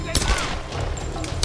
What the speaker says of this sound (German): ertragen die echt viele Schüsse.